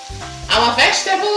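Nigerian fried rice ingredients, vegetables with spice, sizzle in a hot pan, a brief loud hiss of frying that bursts in after a low hum and stays close and bright.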